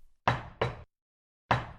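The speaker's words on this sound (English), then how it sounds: "He knocks at the door." Three loud, sharp knocks on a house door: two in quick succession, a pause, then a single third knock. No voices or other sounds.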